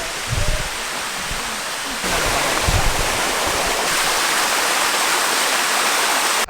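Waterfall in Chiang Mai, a loud, steady broadband rush of falling water that fills the whole clip, close up, with brief bumps and handling noise near the start.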